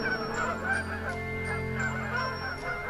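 Canada geese honk repeatedly in flight, a steady chorus of overlapping calls at moderate distance over a constant low background drone.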